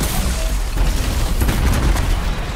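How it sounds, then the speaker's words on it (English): A steady barrage of loud, overlapping explosions and booms in the video game Anthem rumbles on without a break, heavy and close. "I don't know where all these big explosions are coming from"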